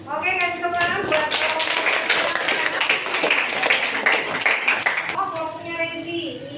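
A classroom group claps for presenters, a burst of dense applause lasting several seconds, with a voice talking just before and after it.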